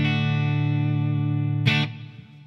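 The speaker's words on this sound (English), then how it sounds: "You can definitely hear it squash up really good." A sustained electric guitar chord through a Line 6 Floor Pod compressor rings evenly with a squashed, compressed sustain, then a brief pick strum before the sound drops away.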